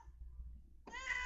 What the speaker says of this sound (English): Your cat.